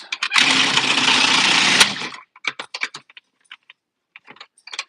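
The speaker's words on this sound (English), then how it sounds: "I'm going to grate my" Carrots being grated for a salad: a dense, continuous rasping burst for about two seconds, then a run of short, quick scraping strokes, close and fairly loud with no talk.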